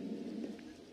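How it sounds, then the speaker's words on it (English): Rain falling in the video game Legacy of Kain: Soul Reaver, a steady, dense wash with a low rumble, continuous and fairly loud throughout the short stretch with no talking. "It's raining still like acid."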